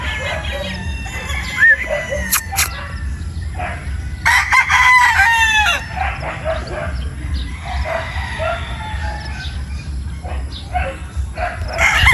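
A Boston Roundhead gamefowl rooster crows loudly nearby on a gamefowl farm, with other birds calling and a dog barking faintly in the background over steady ambient noise.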